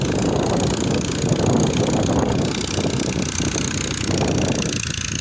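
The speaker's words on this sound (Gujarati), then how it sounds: "આ જૂનું ટ્રેક્ટર છે બે હજાર ત્રણનું મોડલ છે" A rough engine of an old 2003 Massey Ferguson 241 tractor chugs steadily nearby, mixed with wind buffeting the microphone, loud and continuous throughout.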